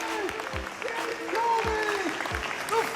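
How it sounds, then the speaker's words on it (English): A crowd applauds at a political talk segment, a faint, diffuse clapping wash in the background while a voice speaks loudly over it. "you really got to give him an applause"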